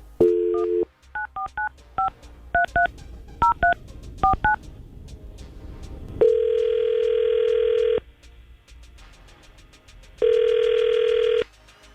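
A phone dials a quick series of touch-tone beeps during a radio show call, then a long ringback tone sounds twice with a pause between rings.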